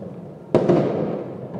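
A single firework bursts with a sharp crack at a New Year celebration, followed by a fading crackling rumble and a faint second pop near the end.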